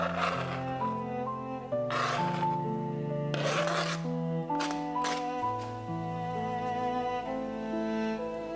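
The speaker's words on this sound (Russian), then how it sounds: "Твердый сыр натираем на средней терке и добавляем в общую массу." Hard cheese is grated on a medium grater for a baked zucchini dish with chicken and sour cream. A few short, rough rasping strokes come in bursts under steady background music.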